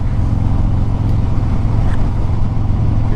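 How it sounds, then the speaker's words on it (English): A motorcycle rides along a road in Kansas, its engine drone loud and continuous, mixed with heavy wind rumble and no speech. "I welcome you into another motorcycle ride here in the great state of Kansas"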